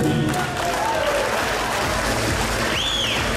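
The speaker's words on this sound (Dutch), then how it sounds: "Geef hen een groot applaus, Jess en Jeffrey." Steady applause from a crowd fills the moment, dense clapping at an even level with a brief whistle-like tone rising near the end.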